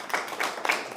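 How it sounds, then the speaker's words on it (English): Audience applause during a city council meeting, a steady wash of many hands clapping at moderate volume with no talk over it. "Ladies and gentlemen, could we not have the applaud?"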